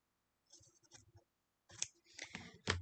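Scissors snip through quilting fabric for a quilt block, a few close, crisp cuts in short bursts separated by quiet pauses.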